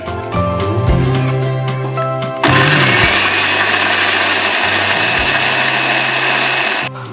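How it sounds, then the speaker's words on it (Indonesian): A loud motorized blender grinds a spice paste of coriander and other ingredients, whirs, briefly pauses, then roars back up with a harsher grinding tone, running steadily until it cuts off near the end. "Sekarang kita blender."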